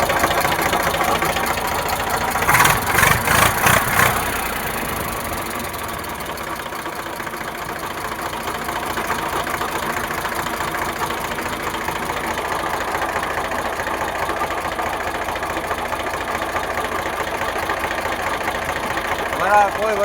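An Eicher 368 tractor with a water-less Ricardo engine idles steadily throughout, a continuous knocking rumble with a louder burst near the start.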